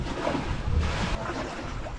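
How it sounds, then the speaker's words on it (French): A light breeze blows steadily over a sailing boat at sea, a soft, even rush of wind and water noise with no voices. "On a une belle petite brise en ce moment."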